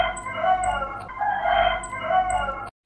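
Chicken noises from the video game Minecraft: a steady run of bright, repeated clucking calls over a continuous game-sound bed, fairly loud and close, ending abruptly.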